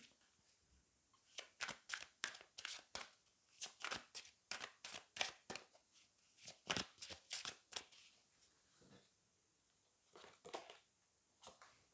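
Angel oracle cards are shuffled in a long run of quick, crisp riffling snaps, dozens of sharp card slaps in uneven bursts with brief pauses, close and quiet with no talk.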